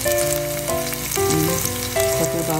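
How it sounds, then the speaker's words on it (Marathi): Garlic and green chilies sautéing in hot oil for a Maharashtrian garlic spinach dish, a loud steady sizzle with stirring clatter throughout. "लसूण मिरची थोडा परतून घ्यायचा"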